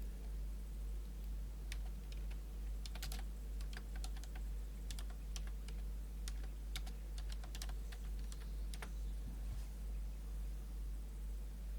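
Someone types a chat message on a computer keyboard while playing Lineage 2, with irregular bursts of quiet key clicks over a constant low electrical hum.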